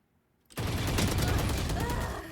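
Dense automatic gunfire from the tactical shooter game Valorant bursts in after half a second of near silence and continues loud and sustained, a rapid clattering stream of shots that holds to the end.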